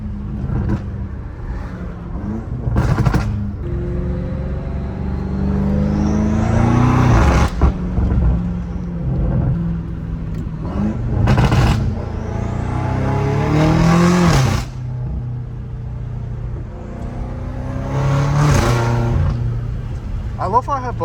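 A catless BMW M5 Competition engine revs hard several times, roaring up and dropping back, loud and close, with people talking between the revs.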